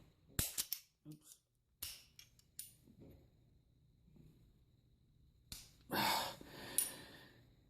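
The cocking spring of a Savage 11VT bolt is pushed back into place against a hard surface, heard as several sharp metallic clicks and snaps close up, then a brief scraping burst, with quiet pauses between.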